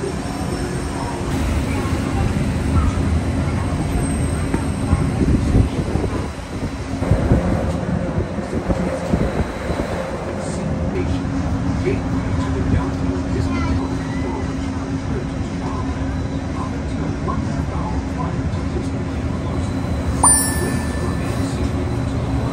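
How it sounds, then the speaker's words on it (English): Riding the Disneyland monorail, with a continuous rumbling interior drone and rolling hum that swells midway, and people talking in the background. "Got off the monorail."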